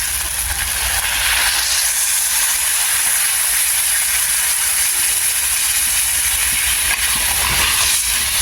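Water poured into a hot pan of curry with jackfruit and prawns sizzles into a loud, steady steamy hiss that holds throughout without letting up, close by with no talk.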